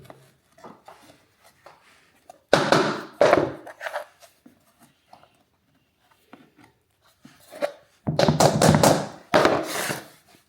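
Cut pieces of herringbone wood flooring are fitted together by hand, giving two close bursts of clattering taps and knocks separated by near silence.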